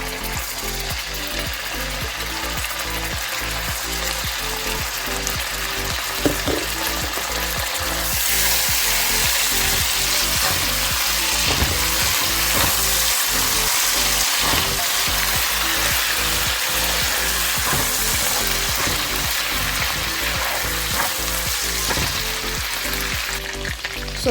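Garlic paste frying in a pan, a loud continuous sizzle with steady rhythmic scraping and clicking of stirring running throughout, growing slightly brighter midway, no speech.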